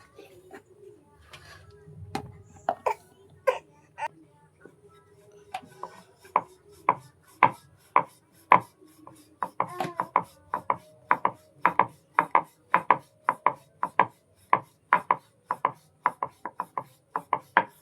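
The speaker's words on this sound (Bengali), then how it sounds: "এইভাবে লেচিগুলো সব আমি কেটে নেব।" A knife cuts through rested dough balls on a board, starting with scattered handling sounds and building into a steady series of sharp chopping taps, close and clear.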